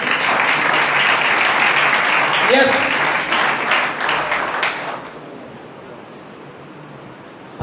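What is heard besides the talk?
church congregation applauding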